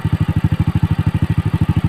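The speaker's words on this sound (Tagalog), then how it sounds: "So, subukan natin paandarin habang mainit pa yung makina." A motorcycle engine idles with a fast, even, loud thumping pulse heard up close and alone after carburetor tuning, the engine still warm.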